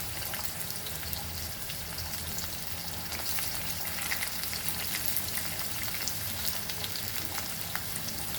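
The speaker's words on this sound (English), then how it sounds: "the oil is hot, we'll add our onion and let this fry till it's golden brown" Thinly sliced onions frying in hot oil for biryani birista, giving a dense, continuous bubbling sizzle with fine crackles throughout, steady and close at a moderate level, no one talking.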